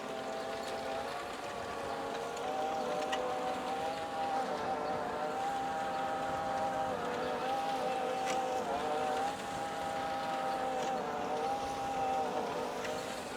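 A mini tractor tills hard soil with its tines pressed down, its engine giving a steady, close, unbroken drone that holds an even pitch from start to finish.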